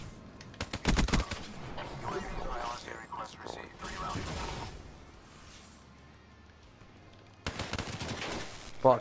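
Rapid automatic gunfire in the shooter game Black Ops 3, a loud burst early on, a second burst near the end, with talking and game sounds in between.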